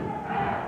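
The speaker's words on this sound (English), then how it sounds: "the crowd is certainly behind the Nasty Boys" A wrestling arena crowd cheers in a steady, dense roar that fills the whole brief moment without a break.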